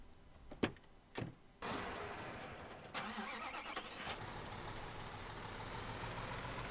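A flatbed truck with a crane in the construction game Bau Simulator 2015: a few clunks, then the engine fires up and settles into a steady, fairly quiet running drone.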